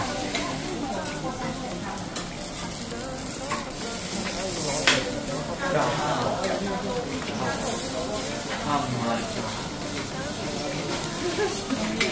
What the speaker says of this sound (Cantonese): 煎嗰啲魚，應該係時令魚